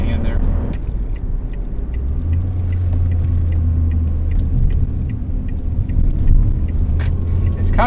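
Ford Fiesta on a test drive, steady low engine and road rumble from inside the cabin, with a few faint clicks and knocks over the continuous drone.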